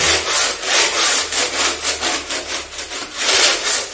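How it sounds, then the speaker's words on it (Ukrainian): Spatula scraping excess decorative plaster made from ordinary putty off outside wall corners: continuous rough rasping strokes in an uneven rhythm, close and loud, with no talking. "І беремо шпатель наш і знімаємо, йдемо по там."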